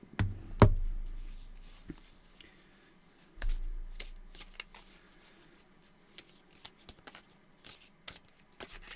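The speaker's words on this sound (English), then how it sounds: "I guess I'll pause while I shuffle for a minute." Quick riffling card shuffles, a couple of louder snaps early on, then softer scattered taps and shuffles in a quiet room.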